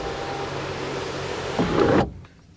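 Electric sunroof motor of a 2012 VW Golf R whirring steadily inside the cabin, rising to a louder strained hum near the end before cutting off abruptly into quiet.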